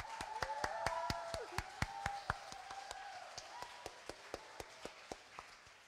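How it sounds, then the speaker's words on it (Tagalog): A church congregation at a healing service claps in a steady, even rhythm, each clap crisp and evenly spaced, while a faint voice or melody carries on underneath. "Yung palakpak nyo may lakas na"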